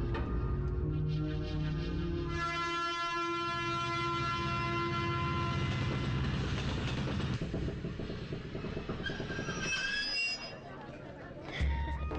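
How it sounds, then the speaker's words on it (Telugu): A train pulls in during a Telugu film scene, with a loud, steady rumble and sustained horn-like tones that continue throughout, easing slightly near the end. "అమ్మో ట్రైన్ వచ్చేస్తుంది."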